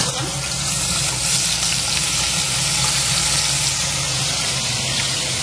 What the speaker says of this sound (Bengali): এদিকে আমি পনির ভাজাটা বসিয়ে